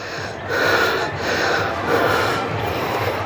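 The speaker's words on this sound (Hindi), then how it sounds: "मेरी आवाज़ में आपको सांसें चलती हुई साफ तौर पर नज़र आ रही होगी" Heavy, noisy panting after a steep climb toward the Adi Shankaracharya statue at Omkareshwar, close to the mic and steady for a few seconds as broad rushing breaths with a slight rise and fall.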